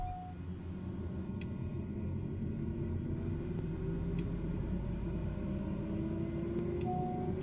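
The turboprop engine of a TBM 930 in Microsoft Flight Simulator 2020 starts up. A low rumble gives way to a rising whine that climbs steadily, with a few faint clicks over it and no talk.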